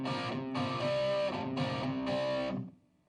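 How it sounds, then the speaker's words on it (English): An electric guitar plays through a distortion pedal, heard as four sustained, fuzzy chords that start and stop abruptly and then fade out at the end, with no talking. "Let me use another distortion"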